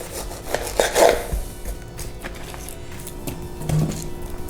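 A serrated knife cuts the ends off a pineapple, giving close, uneven rasping saws and crunches through the thick skin, with a couple of soft knocks against a board in between.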